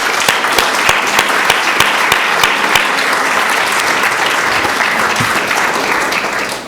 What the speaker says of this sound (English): would you please applaud